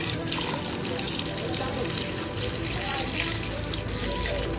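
Water gushes from a tap into a pot of sautéed chayote and chicken for tinola, a steady, loud, close rushing stream that runs without pause for several seconds.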